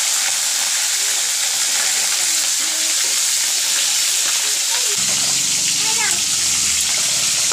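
Fish fries in hot spattering oil in a home kitchen, a dense continuous sizzle and crackle that carries on steadily under occasional talk.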